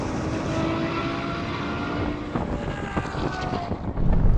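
A BMW M8 launches off the line in a drag race against a Ferrari and a Nissan GTR, heard as a loud, dense roar of engines with wind buffeting, swelling toward the end.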